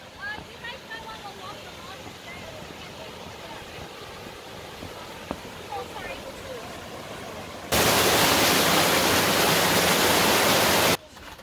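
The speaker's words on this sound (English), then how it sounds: "river rushing" A river rushes along a waterfall trail, a steady broad roar of moving water with faint bird calls over it, swelling into a louder, closer wash of noise for a few seconds before dropping back.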